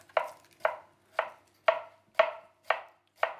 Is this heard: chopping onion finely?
yes